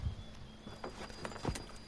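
Horse hooves clopping in a video game set during the British arrival, a few soft, uneven hoof thuds spaced across a short stretch over a low steady background hum, no voices.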